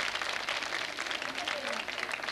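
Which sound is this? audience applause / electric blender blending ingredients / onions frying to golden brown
audience applause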